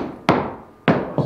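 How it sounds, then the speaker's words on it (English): A golf ball struck off a brush tee peg gives a sharp, loud impact crack, followed by a quieter trailing whoosh, with a second crisp strike later on. "last shot with the brush tee peg"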